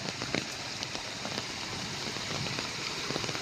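Heavy rain pours down steadily in a dense, continuous hiss, with scattered louder drops pattering close by throughout.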